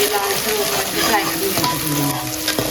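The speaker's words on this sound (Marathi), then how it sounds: "दोन कांदे घेतले होते त्यांना काय करायचं अगदी फ्राय करायचं तेलात" Two chopped onions frying in hot oil in a pan, a loud, dense sizzle close by, with the clatter and scrape of stirring mixed in, no talking.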